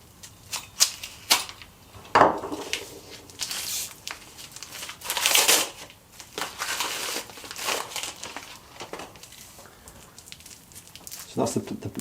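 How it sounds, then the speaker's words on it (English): Close crinkling and crackling as a plastic wrapper, found inside a corrosion-protecting paper wrapper in a workshop, is handled and cut open, with sharp crackles and rustles coming in bursts throughout. "So that's the plastic wrapper I was mentioning, and then let's cut that open."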